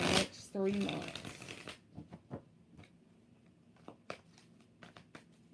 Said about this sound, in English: We're going to do 3 shuffles for 3 months.